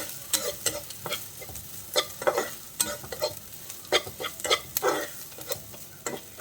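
Green chilli, ginger and garlic sautéing in a pan, with repeated scraping stirs of a spoon in an irregular rhythm over a steady soft sizzle, close and without talking.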